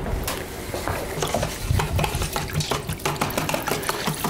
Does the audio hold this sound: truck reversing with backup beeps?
no